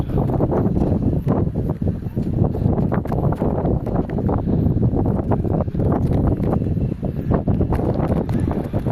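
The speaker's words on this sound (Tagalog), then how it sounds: "Lakas ang hangin, ha." Strong wind buffets the microphone in a continuous loud roar with gusty rumbling, heard up close and alone without talk.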